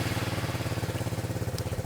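An Italjet Dragster 200 scooter engine with a Malossi CVT upgrade idles close by with a steady, rapid putter, its rhythmic pulsing even and unchanging throughout.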